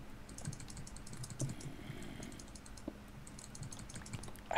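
Rapid computer keyboard typing and clicking during a speed challenge, a fast, continuous patter of keystrokes at moderate volume, with no voices over it.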